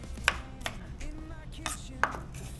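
Garlic being smashed on a home kitchen board, a few sharp separate knocks spaced irregularly, close and fairly crisp against a quiet background.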